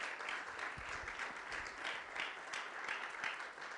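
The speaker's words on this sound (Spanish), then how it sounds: "Dele un aplauso al Señor Jesucristo" A church congregation applauding, a steady sustained wash of many hands clapping at moderate distance with no talk over it.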